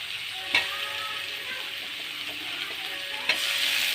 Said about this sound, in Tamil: அடுத்து தக்காளி போட்டு நல்லா வதக்கிக்கோங்க